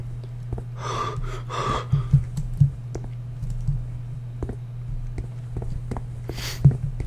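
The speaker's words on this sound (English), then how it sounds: "I can hear myself breathing." Soft, heavy breaths pulse in and out alongside a few faint clicks and taps over a low steady hum, while playing the horror game Which.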